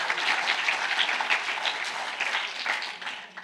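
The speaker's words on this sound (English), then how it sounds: "Let's give them a round of applause" A room of people at a robotics competition information evening applauds a spirited team, a fairly close, even patter of clapping that holds steady and then begins to fade toward the end.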